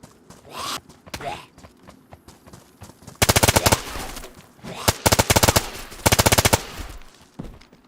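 Gunfire in the survival video game DayZ: scattered single shots at first, then several rapid automatic bursts, loud and close, with quieter thumps and steps between them.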